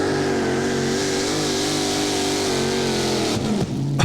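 Pulling tractor named Nightmare, formerly run as Bandit, roaring at full power during a 1994 European tractor pulling event at Walibi Flevo, Holland: a loud, steady multi-engine drone with rich harmonics, ending in a brief sputter.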